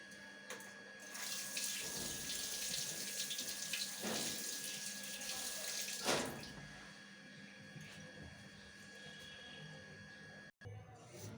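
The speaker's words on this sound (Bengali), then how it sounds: "ভালো করে মাশরুমগুলো ধুতে হবে," Tap water runs steadily while mushrooms are washed under it in a kitchen sink, with a continuous splashing flow and a few louder surges, and no talk is heard.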